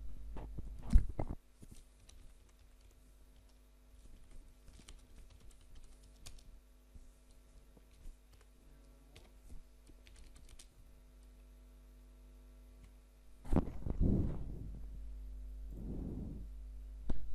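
Typing on a computer keyboard while entering a table of data, scattered light key taps across a quiet background, with a couple of louder clusters of clicks near the start and toward the end.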